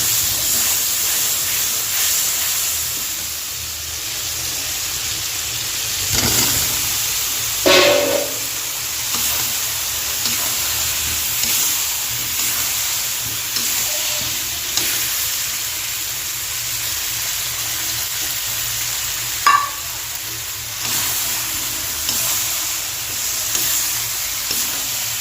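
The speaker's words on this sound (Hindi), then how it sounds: "अब चलिए सारी चीज़ें डाल के अच्छे से तल लेते हैं" Potatoes, peanuts and tomatoes frying together in a pan, a steady close sizzle and hiss throughout, broken by a couple of brief clinks and stirring scrapes.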